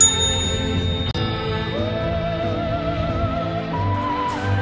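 A bell rings once, then a long shimmering metallic tone hangs and slowly fades under a sustained musical backdrop.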